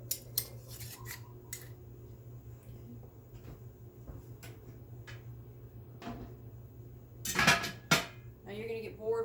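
Glass canning jars of sweet pickles are fitted with metal caps and lids, giving sparse sharp clinks and taps, with a louder clattering cluster near the end over a low hum.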